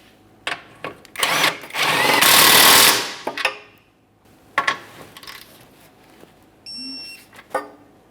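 A power tool, likely an impact wrench, runs a 17 mm inboard suspension bolt on a 2015-2019 Subaru Outback during shock and spring replacement, giving a loud sustained burst after a few short clicks, then quieter sporadic taps.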